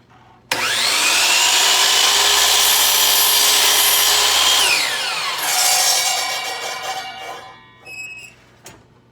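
A compound miter saw spins up sharply and cuts through a piece of wood in one long pass with a loud whine, then the blade winds down, followed by a couple of small knocks.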